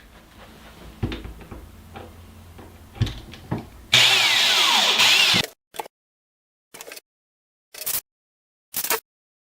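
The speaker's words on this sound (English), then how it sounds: "I'll switch over to the other drill, a little more powerful" A more powerful cordless drill driving screws into a wall-mounted storage shelf, a loud whirring burst of the motor followed by several short separate bursts, preceded by clunks and handling knocks, close and without talk.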